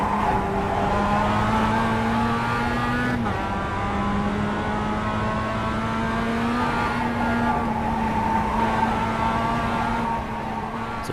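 A race car in the iRacing video game drones on with a steady, loud engine tone that shifts pitch through gear changes and braking, continuous and close, with a faint tire scrub.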